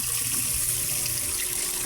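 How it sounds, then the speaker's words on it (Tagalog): Water pours steadily into a cooking pot of sautéed garlic and onion for salmon belly sinigang, a brief, continuous splashing rush heard close and alone. "lagyan na natin ng tubig"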